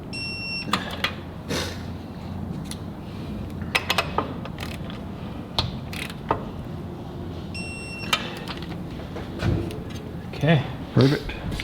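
Ratchet wrench torquing bolts on a fitting during a wrecker build in a shop, giving sharp intermittent clicks and clanks scattered under ongoing talk.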